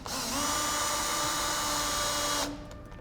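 A power drill removing screws from a door hinge whirs loud and steady for about two seconds, then spins down and stops abruptly, leaving faint clicks.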